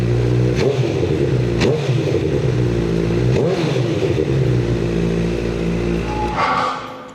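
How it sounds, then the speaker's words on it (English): A Honda CBR1000 motorcycle engine revs hard several times, each blip rising sharply and falling back to a loud, close idle, before the sound fades slightly at the end. "as soon as you start getting up in the high revs, they actually start making a lot of noise"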